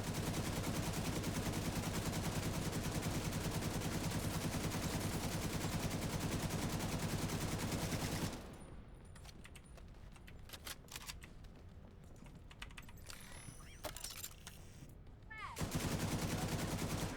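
Dense automatic gunfire rattles continuously in The Division 2 shooter game for about eight seconds, drops to quieter scattered shots and clicks, then resumes loudly at the end.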